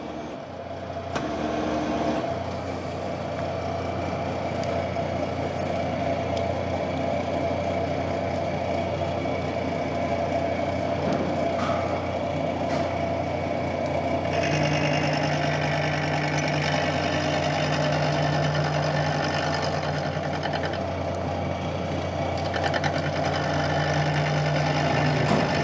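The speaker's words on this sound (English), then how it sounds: "The next cutter is a high-speed bit titanium nitride 5 flutes roughing mill, 500 RPM." A milling machine at 500 RPM drives a titanium nitride coated high-speed steel five-flute roughing mill through a broken cast iron radial arm saw casting, giving a steady close grinding whine and hum.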